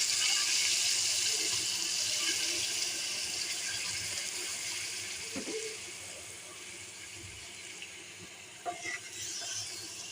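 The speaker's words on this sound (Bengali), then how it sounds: "এখানে আমি এখন একটু পরিমাণে পানি দিয়ে দিব।" Water pours into a pot of cooking chicken biryani, a broad steady rush close by that tapers off, followed by a few light clinks of utensils.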